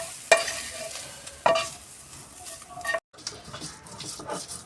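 Boiled beetroot is ground by hand on a flat stone slab (pata), with a few separate rough scraping strokes at close range. A brief silent gap falls partway through, then lighter scraping continues.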